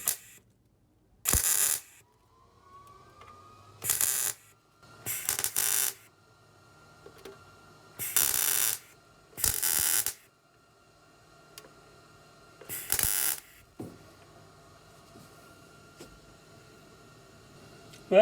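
Metal being welded on a box van: six sharp bursts of crackling arc noise, each lasting about a second, separated by quiet pauses, close by with no talking.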